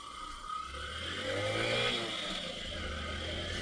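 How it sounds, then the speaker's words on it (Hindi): A Hero Passion Pro motorcycle engine pulls away in first gear, its revs rising and holding in a steady drone at moderate loudness before easing slightly. "So now let's take a ride on this bike और देखते हैं कैसा परफॉर्म करती है।"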